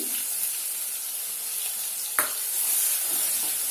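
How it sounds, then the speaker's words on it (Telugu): Mustard seeds, cumin and garlic paste crackle and sizzle in hot oil with a steady hiss, broken by a single sharp pop partway through. "ఆవాలు ఒక టీ స్పూను జీలకర్ర ఒక టీ స్పూను వేస్తున్నాను తర్వాత ఇప్పుడు నేను దంచి పెట్టుకున్న వెల్లుల్లిపాయ ముద్ద కూడా వేస్తున్నాను"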